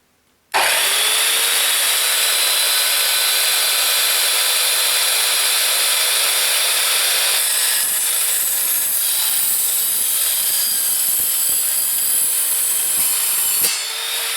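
An Evolution R210CMS mitre saw cuts through a length of unistrut, a loud continuous grinding whine starting abruptly and running steadily for about thirteen seconds before the blade winds down.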